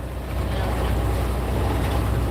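A sailboat motors under engine power in about 17 knots of wind, a loud steady low drone with wind and water wash, continuous and unbroken.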